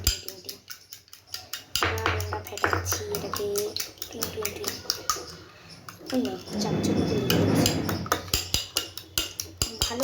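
Spiced batter with chili powder is whisked in a bowl, producing rapid, uneven clinks and taps against the bowl, with a person talking over much of it.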